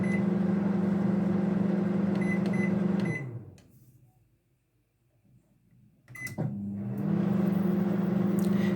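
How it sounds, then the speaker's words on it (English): A microwave oven hums steadily while heating a bowl of oat porridge, its drone cutting out for about three seconds midway before resuming at full strength, close and continuous with no talk. "Return the bowl to the microwave and dial another 3 minutes."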